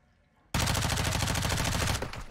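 Rapid automatic gunfire in the video game Call of Duty Modern Warfare 2, a sudden loud continuous burst of fast shots lasting about one and a half seconds after a quiet start.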